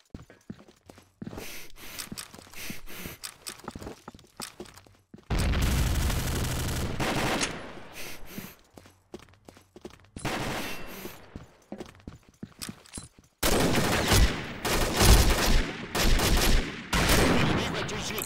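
Gunfire in the Combat Arms video game comes in dense, loud bursts of rapid shots, with quieter stretches of scattered single shots and footsteps between them.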